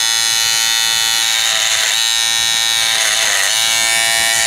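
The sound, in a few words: small barber clippers running after sharpening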